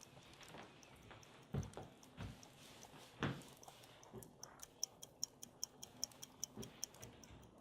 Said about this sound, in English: That is ticking.